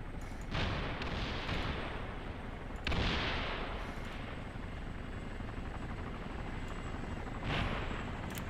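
Armored helicopters land in the DayZ video game, a low continuous rotor rumble underlying a few sharp heavy thumps, fairly faint and distant with no speech.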